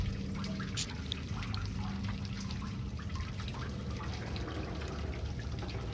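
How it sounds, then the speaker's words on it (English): Water flows steadily through the dark sewers of the horror game Outlast, a constant low trickling rush with faint drips, heard alone with no voices. "I get the feeling like the water's coming from that way."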